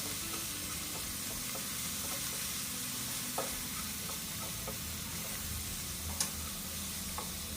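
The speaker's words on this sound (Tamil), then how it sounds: "கொஞ்சம் ஆயில் சேர்த்து சும்மா வறுத்து எடுத்துக்கலாம்" Steady crackling sizzle of prawns frying in hot oil, continuous and close, with a few faint clicks and taps of a utensil against the pan.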